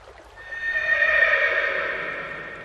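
A horse named Kantaka whinnies once in a long, rising and falling neigh that swells loud and close, then trails off, a cartoon-style animal sound with no talk.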